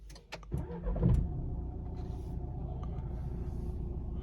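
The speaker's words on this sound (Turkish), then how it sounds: "Şuradan çalıştıralım aracımızı önce bir." A Renault Kadjar's engine cranks and catches after a couple of clicks, then settles into a steady, low idle rumble heard from close by.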